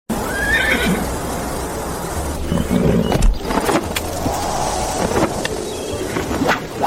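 At a horse race in a mountain setting, a horse whinnies loudly near the start, with hooves clopping and general bustle and noise around it throughout.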